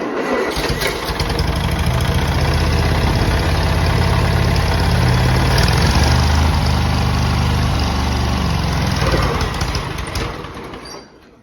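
A long-unused old tractor's engine runs loud and close, a rough, heavy, continuous idle with a slightly uneven beat that holds steady before dropping off at the end.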